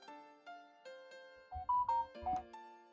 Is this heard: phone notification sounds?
yes